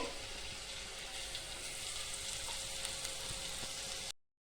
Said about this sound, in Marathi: आता वाटलेली हिरवी मिरची टाकते